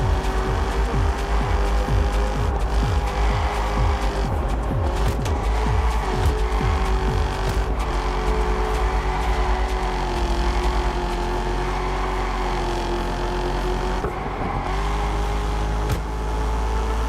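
A Porsche engine in the racing game Test Drive Unlimited Solar Crown, driving through traffic, with a loud continuous engine drone and rising, falling revs through gear changes.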